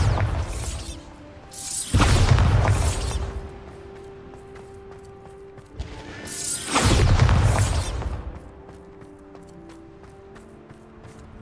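Two loud blasts from the Bombarda spell in the video game Hogwarts Legacy, each a booming crash with a rushing tail, separated by quieter game ambience.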